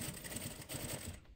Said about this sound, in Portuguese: E aqui eu venho costurando